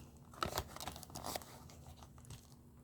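Plastic vinyl wrapping on a card package crinkles and rustles in a few quick, close, quiet bursts, then tapers off.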